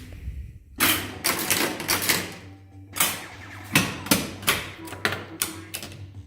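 Coils of a Gottlieb Robo War pinball machine firing as a game starts: a series of loud, sharp mechanical clacks and thuds in irregular bursts, with a steady low hum underneath.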